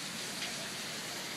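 Rain falls during a rainstorm, a dense, steady hiss of drops hitting surfaces nearby, even and continuous throughout, with no voices.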